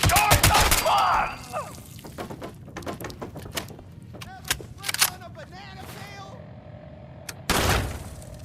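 Gunfire in the Fallout 76 video game: bursts of shots crack out among scattered thuds and impacts, with loud bursts near the start and near the end and sporadic single shots between, mixed with game voices.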